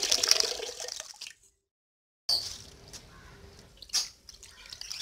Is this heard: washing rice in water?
yes